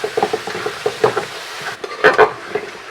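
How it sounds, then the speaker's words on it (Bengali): Ginger and garlic with spices fry in a pan for a Bangladeshi chicken roast, with close stirring and scraping clatter over a light sizzle, in uneven bursts. "প্রথমেই দিচ্ছি আদা, আর দিচ্ছি 2 চামচ রসুন।"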